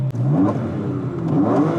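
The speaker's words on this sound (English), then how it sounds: "The airbox is louder than the exhaust. The induction is so nice." A BMW E46 M3 Touring wagon restomod with a DTM-style airbox revs up close and loud, its induction roar rising and falling over about two seconds.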